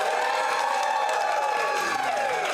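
A theater audience at a Friday night film showdown cheers, whoops and claps to vote for a film. The close, full roar of voices and applause stays steady throughout.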